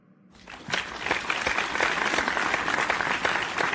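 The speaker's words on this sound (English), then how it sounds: "Keep clapping." Audience applause fills a large gathering hall, broad steady clapping that starts abruptly after a brief quiet and holds at a sustained, loud, crowded level.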